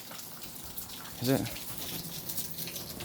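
Water flowing in a quarry, a constant broadband rushing wash heard up close, briefly interrupted by a short spoken question.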